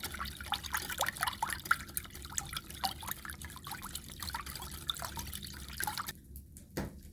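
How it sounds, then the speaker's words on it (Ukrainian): Whey poured into semolina, a soft, continuous trickle of liquid with faint splashing that stops shortly before the end, followed by a single small knock. "Додаємо ще 100 грамів сироватки і вкидаємо в манку."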